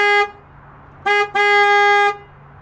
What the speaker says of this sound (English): if you've ever wanted to know what the horn sounds like in a Saleen S7